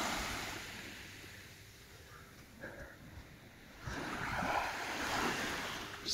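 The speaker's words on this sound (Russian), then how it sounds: "Слышен тишина, слышен только легкий плеск воды." Calm morning sea at Vityazevo in September, with light waves lapping and splashing softly on the shore, faint and distant at first, then a gentle surge of surf swelling over the light breeze.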